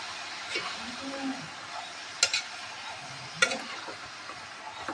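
Mushroom bhaji frying in a pan, a soft sizzle with a few sharp clicks of the spoon against the pan while it is stirred.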